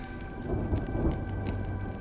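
Steady long rain from the video game Honkai Star Rail, a dense hiss of falling rain with soft low rumbling underneath, continuous and fairly loud with no voices.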